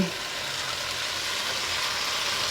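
Raw prawns sizzle in a hot pan over a high flame for a Telugu okra prawn curry, a steady close frying hiss filling the whole moment with no talk.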